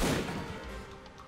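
A single sharp gunshot in the action video game Alpha Protocol, a loud close blast with a rumbling tail that quickly decays, heard alone without talk.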